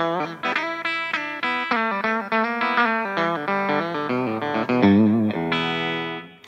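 A 2014 Gibson Les Paul Melody Maker electric guitar with P90 pickups plays a quick run of distorted picked notes and chords, close and clear, with no talk.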